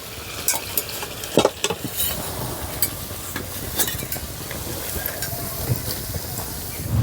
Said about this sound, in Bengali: একইভাবে বাকি পরোটাগুলো ভেজে নেব